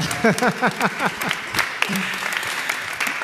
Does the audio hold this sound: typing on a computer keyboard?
no